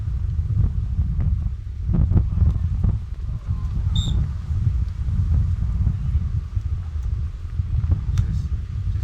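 Wind buffeting a microphone at a beach volleyball charity event in Hope Town, Bahamas, a constant low roaring rumble with gusty swells throughout and no clear speech.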